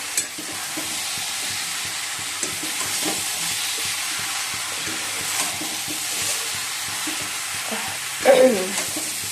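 Cauliflower and potatoes sizzling and frying in a pan with steady clatter of stirring, a continuous hiss throughout and a louder scrape near the end.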